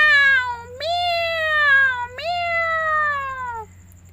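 A voice imitates a cat meowing in a children's story, giving two long, drawn-out meows, each opening with a sharp rise and sliding slowly downward, clear and close with no other sound.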